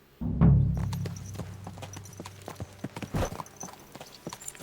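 Horse hooves clip-clop steadily on a hard surface in the video game Kingdom Come: Deliverance II, with a brief snort or whinny at the start and irregular hoof strikes continuing throughout.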